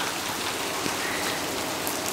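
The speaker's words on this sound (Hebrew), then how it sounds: "גשם יורד עלינו." Steady rain falls in a yard, a dense, even hiss of drops hitting surfaces close by, continuous and alone with no voices.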